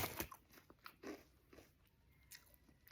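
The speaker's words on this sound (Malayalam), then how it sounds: "നല്ല രസമല്ലേ കടിച്ചു മുറിച്ച് തിന്നുന്നത് കേൾക്കാൻ" A crunchy tomato-flavoured chip snack bitten and chewed up close, a few sharp crunches early then softer chewing, quiet and alone without speech.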